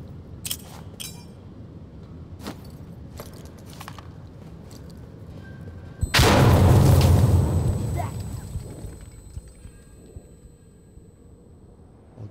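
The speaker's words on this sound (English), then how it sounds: "Let's throw a grenade in there." A grenade detonates in Insurgency Sandstorm after a few scattered clicks and footsteps, a sudden loud booming blast with a long rumbling decay, followed by quieter scattered movement sounds.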